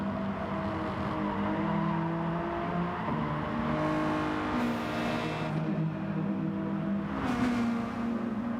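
A Hyundai and a Subaru endurance race car drone down the Catalunya straight, a steady loud engine whine held under full throttle with rising harmonic tones shifting as they accelerate.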